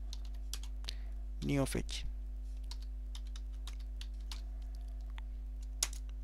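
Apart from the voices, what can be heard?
typing a terminal command on a computer keyboard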